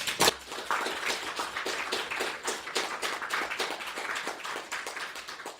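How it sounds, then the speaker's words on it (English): Student election event audience clapping for the SA candidates, a dense burst of many hands that starts sharply, holds steady for several seconds, then thins slightly toward the end, with no talking over it. "Let's make some noise for the candidates"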